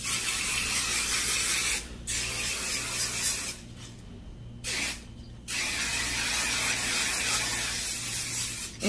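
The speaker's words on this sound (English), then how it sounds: "let's do my hairspray with the Aussie" Aussie grape-scented hairspray sprayed onto very curly hair in long hissing bursts, loud and close, with short pauses between sprays.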